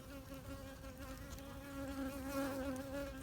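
Honey bees buzz at a hive during a warm January checkup, a steady close drone with clear tonal pitch that swells slightly louder partway through, with no talking.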